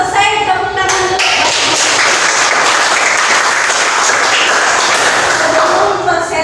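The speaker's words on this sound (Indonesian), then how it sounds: "Dan semua selesai, tepuk tangan dulu." A class of sixth-grade primary school pupils claps together in the classroom, dense steady applause running close and loud for several seconds, with a few voices mixed in.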